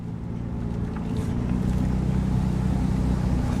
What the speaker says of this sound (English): it does have an exhaust leak, so you might hear, a little noise from that